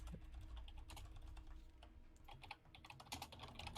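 Fast, hard typing on a computer keyboard during a Rainbow Six Siege session: dense, rapid clattering keystrokes in continuous bursts, close and fairly quiet, with no voices.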